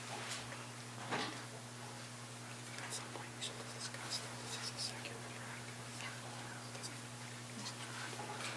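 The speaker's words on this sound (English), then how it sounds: "take back out your piece of paper and write your level of stress" Pens scratching across paper in a quiet room during a mindfulness exercise, a soft continuous scribbling texture with faint rustles over a steady low hum, no talking.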